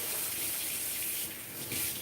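Hot water runs steadily from a tap into a deep sink, a continuous hissing splash with a slight dip in the middle, close and moderately quiet.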